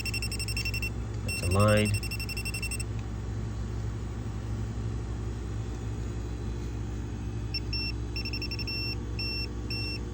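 An electrical tester gives intermittent short beeps during appliance repair work on a refrigerator, dishwasher or microwave, repeating in a regular pattern over a steady hum, with someone talking briefly.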